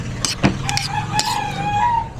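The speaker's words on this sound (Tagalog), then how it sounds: "May poultry malapit dito sa amin doon, sa may bukid." Chickens from a nearby poultry farm by the fields, a rooster crowing with clucks and short calls, moderately close and alone without talk.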